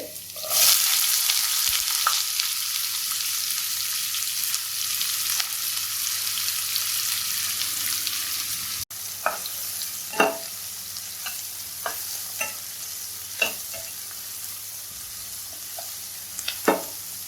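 Chopped onions and crushed garlic fry in a pan with a steady sizzle, while a spoon stirs with intermittent scraping clinks and taps that grow more frequent in the second half; close, no talking.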